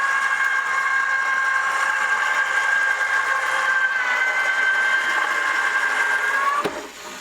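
A Craftwell eBosser embossing machine runs at its single speed, a steady motor whine with a high tonal hum heard up close, then a soft click as it stops near the end.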